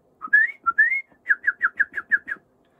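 A person whistling to imitate birds for foley: a few rising chirps, then a quick run of seven evenly spaced short whistled notes, clear and close with nothing else behind.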